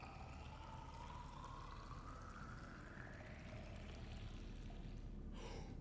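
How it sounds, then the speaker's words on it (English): Water topping off inside a water filtration machine in the Subnautica underwater game: a steady rushing fill with a slowly rising gurgling tone over a constant low hum, ending in a brief bright splash, no voices. "You hear that, like the sound of the water just topping off?"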